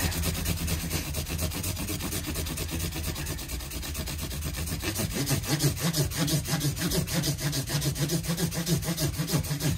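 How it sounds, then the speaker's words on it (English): Continuous abrasive rubbing as 1800 grit micro mesh polishes a Fender MIM Stratocaster guitar body, a steady dense scrubbing that grows slightly stronger and more rhythmic in the second half, close up with no talking. "Now we're on the 1800 grit micro mesh, so we're in the polishing stage now"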